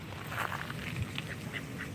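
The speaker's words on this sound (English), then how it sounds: "Let's see if I can get close to a duck." Ducks quacking in a quick, busy series of calls, several birds overlapping at moderate volume over a noisy outdoor background.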